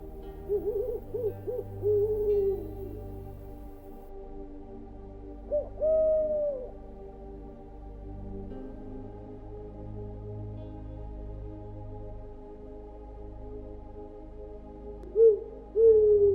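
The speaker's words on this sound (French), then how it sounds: "au chant des hiboux qui veillent sur vous" Owls hoot in a hushed night setting, their soft, rounded calls coming in scattered pairs and short runs over a low, steady background hum, fairly distant and calm.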